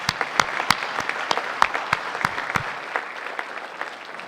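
An audience at an academy of distinguished alumni ceremony claps, with a sparse scatter of distinct sharp claps rather than a dense roar, moderately loud and tapering slightly toward the end.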